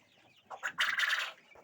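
Quails in a coop let out a brief burst of chirping, clucking calls, close and fairly loud, rising quickly and fading within a second or so.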